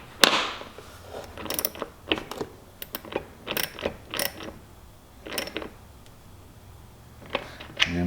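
A T25 Torx screw is driven into the glass tip-out windshield of a 2022 Polaris Ranger 570 SP, producing quiet, scattered ratcheting clicks and small mechanical creaks that come in uneven bursts, close by.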